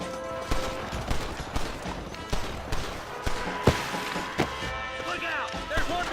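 Sharp, punchy gunshots crack out one after another in an irregular burst, layered over a busy soundtrack with voices and effects from the video game Red Dead Redemption.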